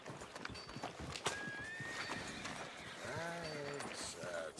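A horse in Red Dead Redemption 2 clip-clops over a busy background, gives a clear whinny partway through and then a shorter second one, with faint voices in the surrounding ambience.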